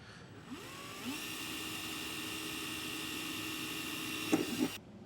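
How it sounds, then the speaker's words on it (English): A small drill bit bores a pilot hole in a pickup bed during a B and W base rail install, giving a steady close motor whine of about four seconds that stops abruptly. "use a really, really small drill bit and just put yourself a tiny little pilot hole"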